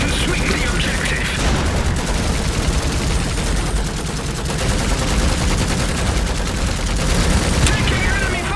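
Sustained gunfire and heavy rotary cannon bursts from mechs and infantry in the Iron Harvest strategy game, a loud, dense, continuous barrage with booming impacts and no break.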